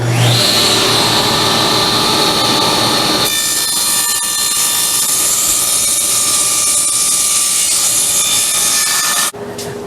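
A power saw cuts a 10-degree angle along the bottom of a wooden board for an old-time carpenter's tool box, giving a loud, steady whine that spins up, runs continuously for about nine seconds, then cuts off abruptly.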